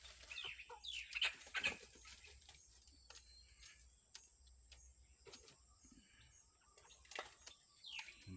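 Red junglefowl (labuyo) and domestic chickens in a rural yard, with scattered clucks and short calls coming and going at middle distance, including a brief crowing-like call near the start and several sharp ticks across quiet background.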